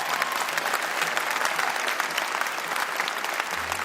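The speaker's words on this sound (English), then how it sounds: "Give them a round of applause." Steady applause from a concert audience at a live music show, dense and continuous clapping throughout with a low bass note creeping in at the very end.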